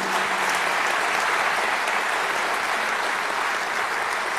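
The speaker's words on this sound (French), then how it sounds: "On peut applaudir ces 6 premières personnalités." Sustained, even applause from an audience at the Reine de la Mirabelle 2023 election event in Lorraine, a dense wash of many hands clapping with no break and no voices over it.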